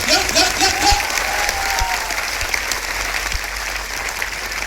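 Applause from a seminar crowd in Ludhiana, Punjab rolls on continuously for several seconds, a broad wash of many hands clapping with a few faint vocal sounds mixed in near the start.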